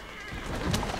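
A horse pulling a carriage in Assassin's Creed Syndicate gives a short, close neigh lasting about a second, with no talk.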